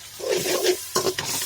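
A spice mix of turmeric, chilli, cumin, coriander and meat masala fries in a pan, a short close burst of sizzling with stirring scrapes in two quick bursts.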